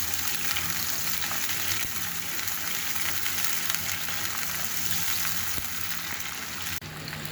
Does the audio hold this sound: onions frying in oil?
yes